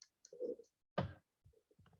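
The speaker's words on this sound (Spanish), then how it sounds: "hacemos clic en login" Quiet mouse clicks on a login button, a few short, soft taps spaced apart in a near-silent room.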